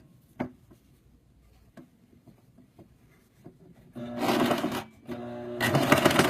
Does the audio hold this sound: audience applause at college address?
no